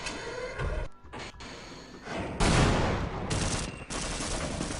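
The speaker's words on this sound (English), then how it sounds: "I will shoot him in the chest" Gunfire in the video game Half-Life, a dense burst of loud, close shots and impacts with brief gaps, filling the clip from start to finish.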